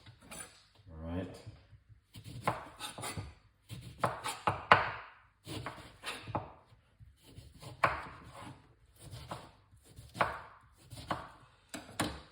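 Ginger and lemon being chopped on a board with a knife: bursts of rapid, close, crisp knife taps in repeated runs with short pauses, with a voice talking between and over some of them.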